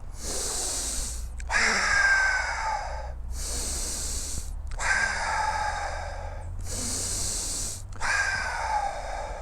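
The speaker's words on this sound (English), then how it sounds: "take 3 deep breaths in and out fairly quickly, like this" Three quick rounds of deep breathing, each a sharp, noisy inhale followed by a longer rushing exhale through the back of the throat, close and loud with no talking, as part of a breathwork exercise for anxiety.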